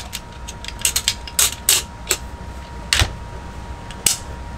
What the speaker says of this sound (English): you just want to cycle it through a little bit